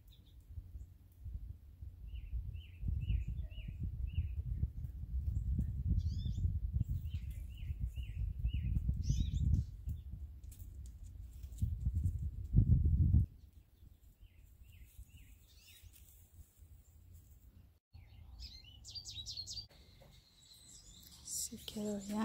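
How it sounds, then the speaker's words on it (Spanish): Small birds chirp in short repeated bursts, fairly faint and high, over a steady low rumble of background noise outdoors in a garden after rain. "sonido de los pájaros se oye muy bonito"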